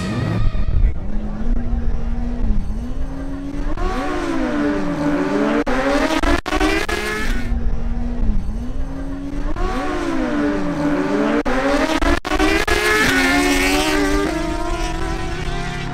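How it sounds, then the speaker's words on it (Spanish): A Honda CBR1000RR motorcycle makes a drag race run, its engine screaming up through repeated rising gear sweeps with brief dips at each shift, loud and sustained over about sixteen seconds. "El turno ahora nuevamente es para Adrián Murcia en su Honda CBR1000 EBR"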